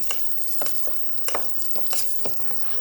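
Seafood stirred with a spoon in a very hot frying pan gives a steady, close sizzle, punctuated by sharp scraping and clinking strokes of the utensil against the pan at irregular intervals.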